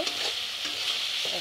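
Spice masala with tomato being stir-fried in a pan, a close steady sizzle broken by soft scraping stirs at regular intervals, no talk.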